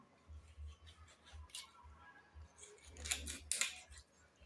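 Soft cuts through a catfish being divided into pieces on a board, a few faint chopping taps and slicing sounds, close and quiet, with a low thumping underneath.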